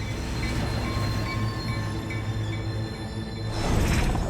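Swiss snowplow train rolling down a steep Alpine rail descent, a steady loud rumble of wagons on the rails with thin metallic wheel squeal, swelling louder near the end.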